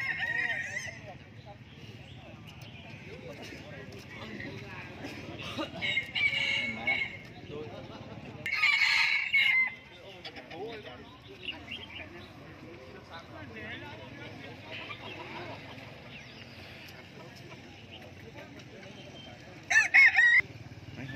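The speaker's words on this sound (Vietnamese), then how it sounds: "Hôm nay nhiều gà rừng phết nhỉ." Jungle fowl roosters crowing at a bird market in Lang Son, a couple of crows rising out of busy market chatter and background noise, moderately near, with people talking throughout.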